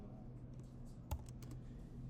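Typing on a computer keyboard while configuring a DNS server on Ubuntu: soft, quick key clicks scattered through a low steady hum, with one sharper keystroke near the middle, close and quiet.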